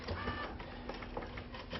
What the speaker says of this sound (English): We have 2 matrix printers running at the same time